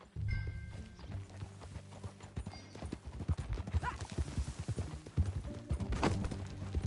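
Steady clip-clop of horse hooves trotting over ground in Red Dead Redemption, a continuous rhythmic beat, with occasional low voices and a brief whinny in the background.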